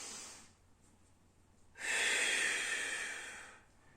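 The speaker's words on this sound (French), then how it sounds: "j'inspire" A single slow, audible breath drawn in through the nose during a controlled breathing exercise, a soft airy rush lasting about two seconds after a brief quieter breath, close and alone with no talking.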